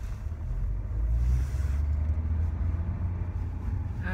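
A learner driver's car engine holds a steady low rumble throughout, swelling slightly as the gas pedal is pressed firmly, with no talk over it.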